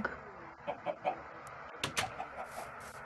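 Chicken clucking in Minecraft Bedrock, a few short clucks and squawks spread across a noisy game background with faint clicking sounds, moderately close but not loud.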